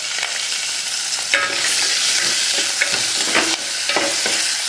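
Asafoetida and curry leaves are tempered in hot oil for a coconut milk rasam, giving a steady close-up sizzle and spatter with stirring bursts as the leaves crackle in the pan.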